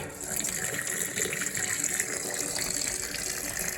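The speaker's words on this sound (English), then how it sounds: "So this will drain all that water out of the pipe" Water gushes and splashes steadily out of a house pipe as it drains, a continuous hissing rush at constant loudness.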